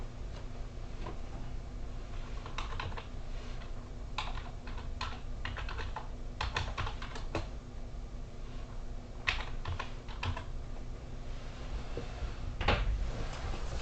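Typing on a computer keyboard: irregular bursts of crisp keystroke clicks, some fast runs and some single taps, close and steady over a faint background hiss, with no voices.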